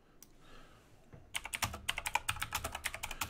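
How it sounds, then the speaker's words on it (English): Rapid typing on a computer keyboard, close and clear, with a fast irregular patter of key clicks after a brief quiet start. "He's typing on me on Facebook right now."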